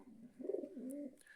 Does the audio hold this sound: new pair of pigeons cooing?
yes